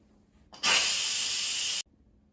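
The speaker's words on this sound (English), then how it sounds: "so let's quick release the steam" Steam bursts out of an Instant Pot's pressure valve during a quick release after cooking mashed potatoes, a loud, steady hiss lasting just over a second that cuts off abruptly, with no talking.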